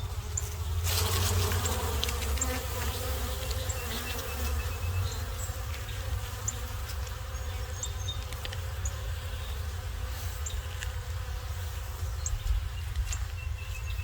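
Honeybees buzz continuously around an open hive during an inspection, a steady dense drone close by with scattered individual bees passing near, no one speaking.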